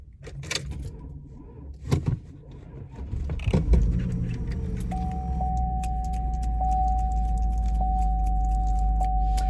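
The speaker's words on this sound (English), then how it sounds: "I have to give it a little gas in order to get it to start." Car door and key clatter give way to a pickup truck engine turning over and catching, settling into a low steady rumble with a repeating chime beeping over it.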